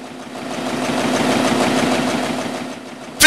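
A large Goss printing press runs at full speed at a newspaper plant, producing a loud, steady mechanical whir with rapid rhythmic clatter, close and continuous, ending in a sharp louder burst.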